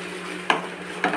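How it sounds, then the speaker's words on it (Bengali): Sago pearls fry in a pan over a low gas flame, with a soft continuous sizzle. Two short, sharp scraping strokes of stirring break in about half a second apart. "গ্যাস একদম কমিয়ে কমিয়ে এটাকে ভাজতে হচ্ছে"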